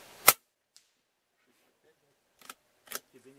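A single sharp air rifle crack during pneumatic varmint shooting, loud and brief near the start, followed by a few fainter clicks and snaps with quiet gaps between.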